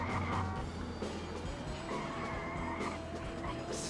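A tour bus skids through a game version of London, its tires squealing over a steady engine roar that runs loud and unbroken for several seconds.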